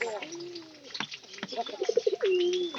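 Pigeons coo in a rural yard where racing pigeons are kept, soft throaty rolling coos close by, mixed with other bird calls, while people talk over them.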